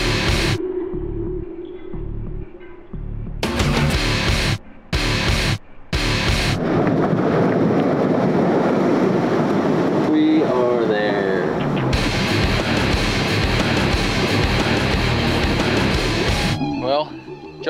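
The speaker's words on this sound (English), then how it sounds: "If you can't tell, the wind's blowing." Strong wind buffets the microphone in open Quebec caribou country, roaring in loud bursts that settle into a continuous gusty rush, with a person's voice briefly heard near the end.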